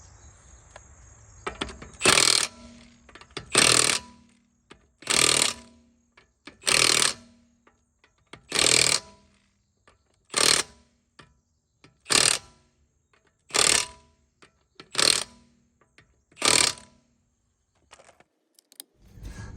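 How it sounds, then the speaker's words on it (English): A torque wrench tightens lug nuts on an Audi Q5 wheel fitted with Brembo four-piston brakes. Close up, it gives about ten evenly spaced bursts of loud ratcheting clicks, each lasting roughly a second, with short pauses between them. "torque these lug nuts down to proper spec with an actual torque wrench"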